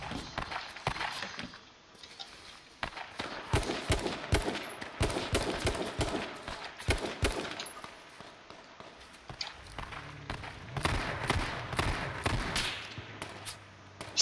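Sniper and rifle fire cracks in the H1Z1 King of the Kill battle royale game, with many sharp shots scattered across the scene, some in quick bursts, alongside footsteps and gear movement.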